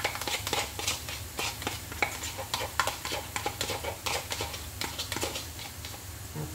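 Chili and beef fry and get stirred in a pan for mi goreng, giving a steady sizzle broken by frequent sharp clicks and scrapes of a utensil against the pan, close and fairly loud, with no talking.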